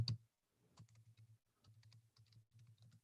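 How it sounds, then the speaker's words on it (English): Typing on a computer keyboard, a quiet, close series of soft key taps in short bursts with small pauses, alone without talk. "I'm typing the link in the chat right now."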